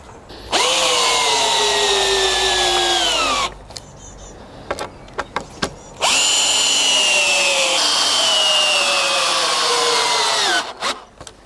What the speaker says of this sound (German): Und diese könnt ihr jetzt ausrichten und bündig mit den Querbalken verschrauben.